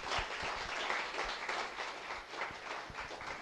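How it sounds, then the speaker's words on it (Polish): An audience at a travel lecture on Ethiopia applauds in a steady, dense wash of many hands clapping that sounds moderately distant, with no speech over it. "Wielkie brawa, tak?"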